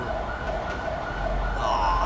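Ambulance siren in the police video game LSPDFR, a steady electronic wail carrying continuously over low engine and street rumble across the short moment, with no talk.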